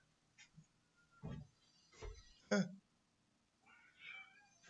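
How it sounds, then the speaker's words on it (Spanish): Several cats meow in short, quiet calls spaced a second or so apart, mixed with soft background chatter in a bar. "Hay gatos en la barra."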